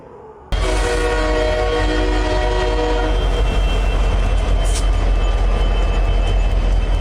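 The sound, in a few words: metro train arriving at a platform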